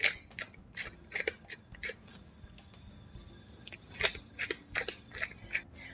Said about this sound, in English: a few grinds of freshly ground pepper